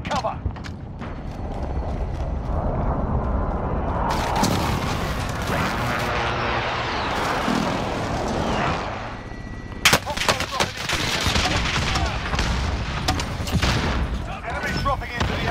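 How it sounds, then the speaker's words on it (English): An enemy precision airstrike in a shooter video game brings rapid, loud explosions and bursts of gunfire layered together, with a fresh wave of sharp blasts about two-thirds of the way through, while a voice speaks over the chaos. "Enemy precision airstrike. Take cover."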